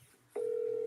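An outgoing phone call begins to ring, a steady electronic tone cutting in abruptly after a short quiet hiss and holding evenly to the end.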